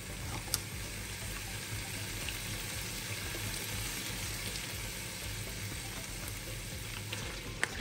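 Thai green curry ingredients sautéing in a pan, a dense, constant sizzle that stays loud and even for several seconds with a couple of sharp clicks, close by and free of speech.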